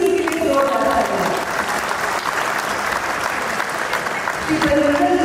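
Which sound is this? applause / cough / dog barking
applause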